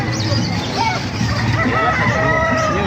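A gamefowl rooster crows amid a busy farmyard of Sinibalang, Talisay and Pumpkin Sweater fowl, with other chickens clucking and people talking nearby.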